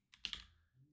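A short burst of keystrokes on a computer keyboard, a few quick clicks close by and fairly quiet, with no talking.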